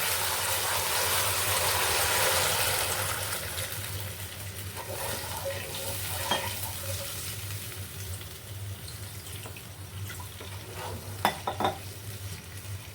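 Water added to spice masala in oil for stuffed potato dum: a loud hiss and bubbling sizzle that starts strong and gradually settles, with a few clinks of a utensil near the end.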